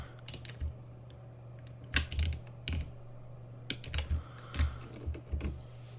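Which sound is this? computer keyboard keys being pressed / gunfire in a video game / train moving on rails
computer keyboard keys being pressed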